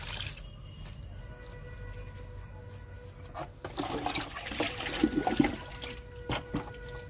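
Liquid fertilizer poured onto garden plants, a soft watery splash and trickle that swells in the second half, faint and close, with occasional drips and no talking.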